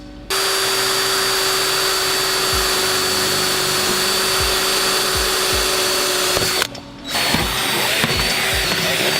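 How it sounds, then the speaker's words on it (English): A loud power drill whirs continuously, stops briefly with a clunk, then starts up again, with faint rhythmic knocks underneath. "I'm actually just gonna go ahead and drill the rest of them."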